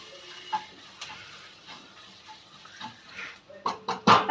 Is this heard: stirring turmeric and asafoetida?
yes